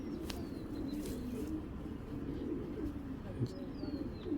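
Low, burbling coos from Girbaz tournament pigeons, including a female, repeat through a steady wash of background noise at close range, with a voice speaking at times.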